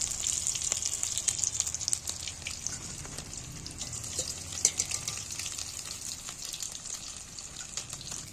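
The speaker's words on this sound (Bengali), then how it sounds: "এবার বাকি অংশগুলো এইভাবেই ভেজে নেব।" Pieces of egg fry in oil in a pan, producing a steady, fairly loud sizzling hiss with scattered crackles throughout.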